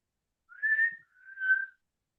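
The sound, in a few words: a person whistling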